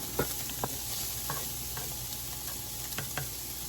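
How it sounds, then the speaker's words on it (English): Onions and ground beef sautéing in a skillet, with a soft, steady sizzle broken by occasional light scrapes of a utensil, quiet and close. "We want to give the onions just a little bit of time to kind of saute."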